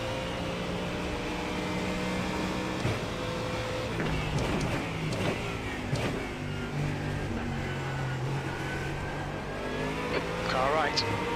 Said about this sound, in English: Rick, there's a faster car approaching.